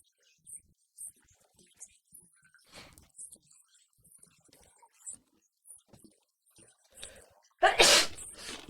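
One loud, close sneeze bursts out at the end, after quiet rustling and small sounds.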